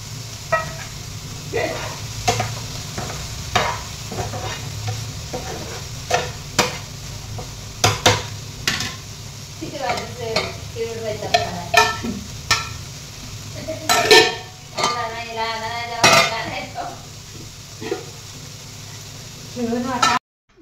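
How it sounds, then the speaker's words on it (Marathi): Spices tempering in hot ghee in a pan, a continuous sizzle broken by repeated scraping and knocking of a spoon against the pan, close and fairly loud, with a voice talking over parts of it. "तुपातच आपण आज फोडणीला देऊया."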